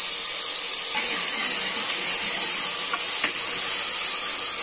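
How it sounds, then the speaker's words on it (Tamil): Tomato and slit green chilies sauté in sesame oil in a home kitchen, giving a steady, close sizzling hiss that holds evenly throughout. "சும்மா லைட்டாக அந்த நல்லெண்ணெயில் நமக்கு வதங்கினா போதும்"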